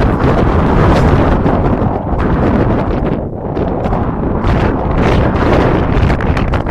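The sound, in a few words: wind on a clifftop in Gozo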